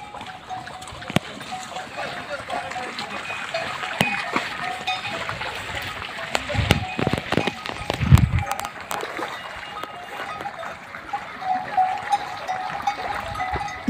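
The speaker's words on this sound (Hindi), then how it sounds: "गौ माता देखो कितनी ज्यादा संख्या में गौ माता अब शाम के टाइम में पानी" A large herd of cows gathers to drink water at evening in the Rajasthan desert, with scattered low moos and bellows, rustling and hoof noise, and voices in the background throughout.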